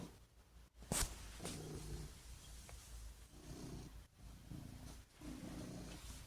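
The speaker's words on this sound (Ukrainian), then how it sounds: "А мурчалка включена." Soft, low rhythmic purring rumbles from a cat in close, repeating pulses, with a brief louder rustle near the start.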